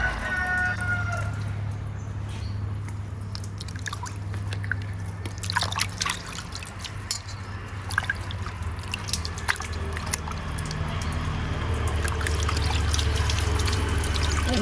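Fish eggs are rinsed under running water, a continuous close trickle and splashing with scattered drips and handling sounds, growing slightly louder toward the end.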